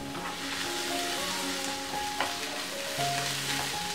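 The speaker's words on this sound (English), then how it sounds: "Once onion is soft and translucent, add 1 tablespoon ginger garlic paste and 1 or 2 tablespoon chopped green chilies" Onion fries in a pan with ginger garlic paste and chopped green chilies, giving a steady close sizzle with occasional stirring scrapes and brief tonal clinks from the utensil.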